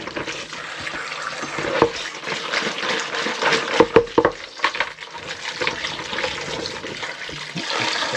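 Homegrown plums washed under running water in a utility room, with a steady splashing rush of tap water and occasional louder splashes and clatters as the fruit is handled, close and continuous with no talking.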